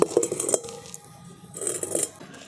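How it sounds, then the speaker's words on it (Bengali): A metal wok (kadai) is set onto a lit stove while frying kaju nimki, giving a few close clanks and scrapes of metal at the start and again near the end, with quiet gaps between. "উনুনটা ধরিয়ে দিয়েছি কড়াটা বসিয়ে দিচ্ছি"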